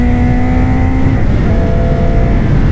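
Honda Hornet CB1000 SP motorcycle with its factory exhaust, engine revving loud and close under a twisting throttle, a steady harmonic drone that holds, then shifts pitch partway through.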